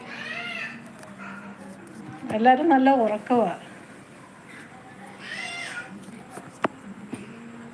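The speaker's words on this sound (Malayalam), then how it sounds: "പൂച്ചയെ പരിചയപ്പെടുത്തുകയാണ്" A cat meows close and clearly in two drawn-out calls, the first louder and more insistent, with a quiet room and some talking between them.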